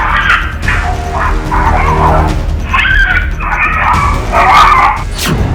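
Two dogs confronting a leopard, barking, yipping and whimpering in loud, agitated bursts close by, over a rough outdoor background.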